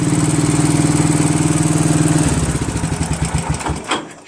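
A Craftsman 13.5 mid rear engine riding mower runs loud and close with a steady, throbbing small-engine drone, then the note drops and sputters into uneven pulses as it winds down.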